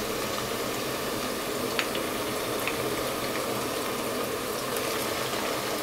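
Ginger paste frying with lightly browned onions in a pan for a beef head-meat curry, a steady close broadband sizzle with faint crackles throughout, no talking.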